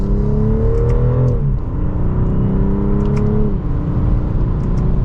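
A 2024 BMW 540i xDrive M Sport in sport mode pulls hard in second gear, its engine note climbing steadily, dipping briefly on a quick smooth upshift, then climbing again, loud and continuous from inside the cabin.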